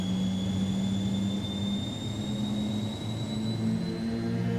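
MD-80 jet engines spool up for takeoff in a flight simulator game, a steady loud roar with a rising whine and low droning tones, continuous and without talk.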